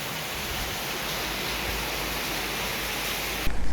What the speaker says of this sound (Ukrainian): за короткий проміжок часу з'явилися грозові хмари і почав накрапати дощ